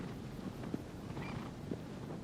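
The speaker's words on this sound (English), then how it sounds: "Mount that horse" Horse hooves in Shadow of the Colossus clop faintly over a windy outdoor ambience, a few soft irregular thuds under steady wind noise.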